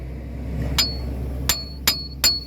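Four sharp metallic strikes of a hammer on a chisel ring out at irregular intervals over a low steady hum.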